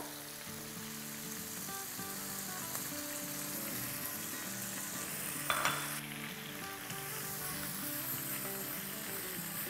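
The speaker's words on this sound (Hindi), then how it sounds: "देखिए यहाँ मसाला हमारा भुन रहा है" Spiced masala for tandoori kabab sizzling and frying steadily in a pan, a continuous close crackle and hiss with no talk over it.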